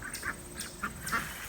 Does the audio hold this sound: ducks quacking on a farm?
yes